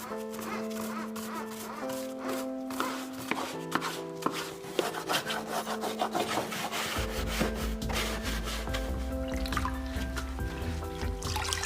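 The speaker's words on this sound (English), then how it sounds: "Use a brush to remove dry grass." Bristles rubbing dry grass off a Husqvarna Automower robotic lawn mower: steady, scratchy brushing strokes close by, running under continuous background music with no talk.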